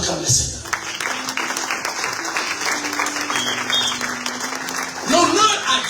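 A church congregation applauding, sustained clapping with a preacher's voice over it and cheering rising at the end.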